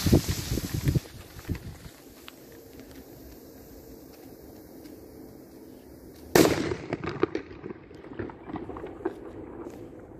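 Fireworks and firecrackers burst at a New Year celebration in Spain, a dense crackling barrage at the start, then a loud close bang about six seconds in, followed by scattered pops and crackles.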